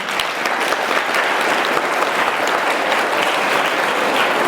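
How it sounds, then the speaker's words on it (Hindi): Students in a school assembly break into steady applause for their teachers and parents, a dense, loud wash of many hands clapping continuously from start to finish with no speech over it. "एक बारी अपने टीचर्स और अपने माँ बाप के लिए तालियां बजा दो।"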